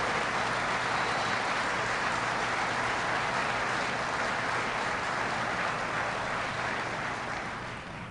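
An audience at a Caterpillar facility claps steadily for a guest named George Shedid, a dense, even wash of applause lasting several seconds and fading slightly toward the end, with no talk over it.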